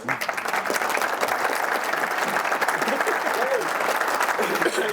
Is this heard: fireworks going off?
no